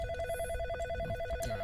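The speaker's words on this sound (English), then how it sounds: "When the phone rings, you well know something's gonna happen." A telephone in In Sound Mind rings with a steady, pulsing electronic trill, moderately loud and alone over a low background rumble.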